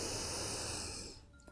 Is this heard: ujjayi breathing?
yes